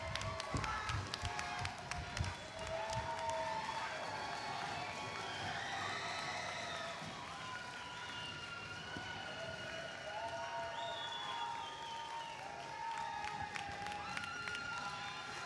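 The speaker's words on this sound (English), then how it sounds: "cheer for them as loud as you can so that they hear how much you love them" An audience at a 2023 graduation cheers and applauds for the graduates, a fairly faint, sustained mix of shouts, whoops and scattered clapping from a crowd at some distance.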